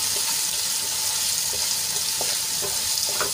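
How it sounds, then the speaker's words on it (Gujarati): Finely chopped onions sautéing in hot oil, a dense steady sizzle up close with a few light stirring scrapes, no voices. "તો ડુંગળીને આપણે ગુલાબી રંગની થાય ત્યાં સુધી સાંતળી લેવાની છે."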